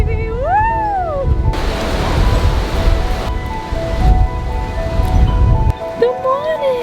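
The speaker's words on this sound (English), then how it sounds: "It is windy today, baby!" Strong gusty wind roars and buffets against the microphone outdoors in Panama, a broad rumbling rush lasting several seconds, with a voice and high chirpy calls heard before and after it.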